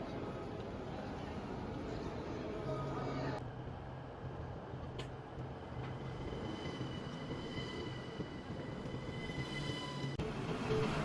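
A double-decker passenger train in Belgium running on rails, a steady low rumble and rhythmic wheel noise heard from inside the carriage, moderately loud and continuous, with faint voices underneath.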